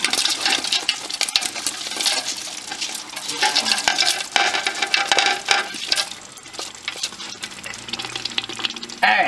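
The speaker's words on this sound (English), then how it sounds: "So what I'm going to go ahead and do now is go ahead and add my beef, like everything I fried." Fried beef is tipped into a pot of ofada stew and stirred, giving dense close clattering, scraping and bubbling sizzle with uneven bursts of utensil contact and no speech.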